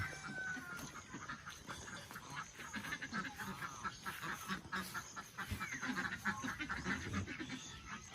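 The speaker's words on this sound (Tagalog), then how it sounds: "Ito yung mga peking duck natin" A flock of Peking ducks quacks in a busy, overlapping chorus, with other poultry calling faintly in the background.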